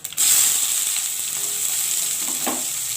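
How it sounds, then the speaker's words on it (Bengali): Onion hits hot oil in a pan for a spicy Bengali greens chorchori with shushni and kolmi shak, a sudden loud sizzle that settles into steady close frying with a light stir near the end. "এখন আমি তুলে দেবো পেঁয়াজটা।"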